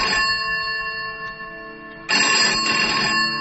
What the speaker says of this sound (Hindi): और तभी कमरे का फोन बजा,